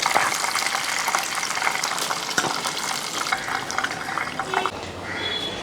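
Large chicken pieces deep frying in hot oil, a dense, continuous bubbling sizzle with occasional crackles and clinks, steady and fairly loud.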